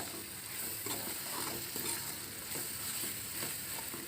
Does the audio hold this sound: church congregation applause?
no